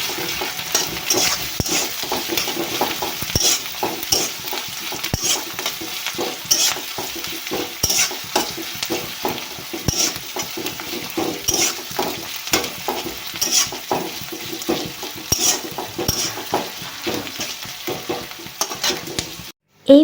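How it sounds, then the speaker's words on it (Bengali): Spinach curry with garlic and ginger is stirred in a hot pan, a steady oily sizzle broken by frequent scraping strokes of a spoon, close and loud with no talking. "তো দিয়ে দিলাম তো এখন ভালো করে নাড়িয়ে চালিয়ে নিব"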